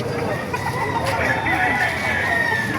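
A white kelso rooster crows at a poultry market in Baliuag, Bulacan, its drawn-out call rising over constant crowd chatter and nearby voices.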